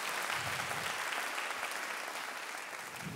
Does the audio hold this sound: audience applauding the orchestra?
yes